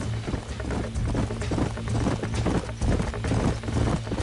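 Horse hooves in the Red Dead Redemption video game, a brisk, continuous clip-clop of a horse moving along, close and fairly loud over a low rumbling ambience.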